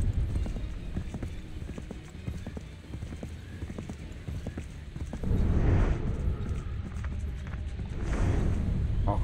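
Horse hooves clip-clop at a gallop in the Assassin's Creed 3 video game, a steady rapid drumming that runs throughout and grows louder partway through, with occasional whinnies.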